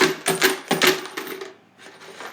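Coins shaken inside a metal mystery can, a loud close burst of jangling, clattering rattles in quick uneven pulses that trail off into scattered lighter clinks.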